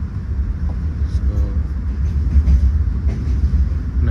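Passenger train leaving Galle station in Sri Lanka bound for Colombo, a steady low rumble and rattle heard from inside the coach, continuous and fairly loud with no clear talk.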